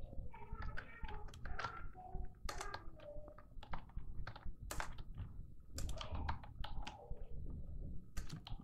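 Fast typing on a computer keyboard, dense bursts of key clacks close to the mic under steady background hum.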